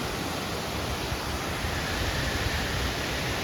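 Steady broadband rush of the Elappally river flowing near a roadside waterfall spot, a continuous close wash of moving water with no voices.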